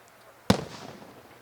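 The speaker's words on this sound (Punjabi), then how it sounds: "ਦੇਖੋ ਫਿਰ ਧਮਾਕੇ ਸ਼ੁਰੂ ਹੋ ਗਏ ਧਮਾਕੇ ਦੀ ਆਵਾਜ਼ ਤੁਹਾਡੇ ਤੱਕ ਆ ਰਹੀ ਹੋਏਗੀ" A single sharp blast from a shell at the Shambhu border protest, heard at a distance with a sudden crack and a rolling echo that trails away over faint background noise.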